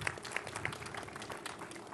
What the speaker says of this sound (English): if we could just give a round of applause to the faculty and the staff that work here.